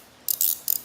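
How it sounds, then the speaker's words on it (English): A ratcheting combination wrench clicks close up in quiet surroundings, three short bursts of rapid metallic ratchet clicks, the middle one a longer smoother sweep. "putting a ratchet on the end of this wrench"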